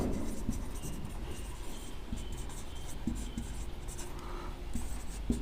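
Chalk or marker taps and scratches on a board during an electrician lesson, producing intermittent short strokes under steady room noise while a teacher talks.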